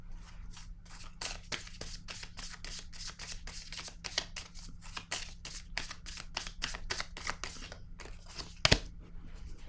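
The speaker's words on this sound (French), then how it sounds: "Je vais piger une autre carte." Playing cards shuffled or riffled from a deck in rapid, repeated crisp flicks and snaps, steady and close throughout, with a low hum underneath and one sharp louder click near the end.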